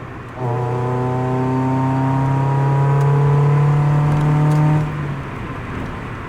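A Mazda Miata revs and drives, its engine note rising and holding strong with a clear harmonic drone, then easing off. It is loud and close, heard alone without speech.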